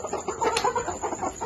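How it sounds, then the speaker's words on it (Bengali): Chickens on a flooded farm cluck softly in a short, low, continuous murmur, fairly quiet and close, with no one speaking. "এই যে আমাদের মুরগিগুলা সারিবদ্ধ সবাই বসে আছে।"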